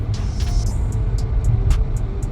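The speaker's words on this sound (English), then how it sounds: "I'm driving the S60 Core Edition with the dark theme." A 2023 Volvo S60 Core Edition is heard from inside the cabin while driving on the road. A steady low rumble of road and engine noise carries throughout, with faint light ticks above it.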